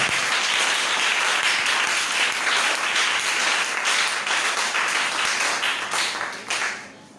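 A congregation at a divine healing church seminar applauding the Lord: dense, loud, continuous clapping from many hands that holds for about six seconds, then tapers off and fades out.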